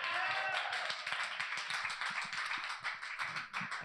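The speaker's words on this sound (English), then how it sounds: "Why don't y'all give a hand for Megan?" An audience claps throughout, steady and fairly close, for the guest at a student night event, the clapping fading slightly toward the end.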